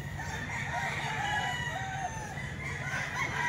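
A rooster crows close by, a loud drawn-out call that carries over a steady background of other fowl clucking, with no voices.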